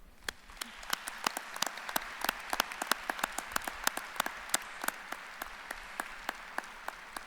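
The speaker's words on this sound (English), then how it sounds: "give you another round of applause" A small graduation audience claps in a thin, scattered round, individual hand claps popping out distinctly over a faint, quiet background, sounding somewhat distant.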